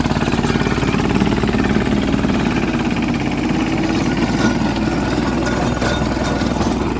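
A mini tractor's small engine drones steadily and loudly while running a rotavator over dry ground, with a rough, chugging vibration throughout, no talking.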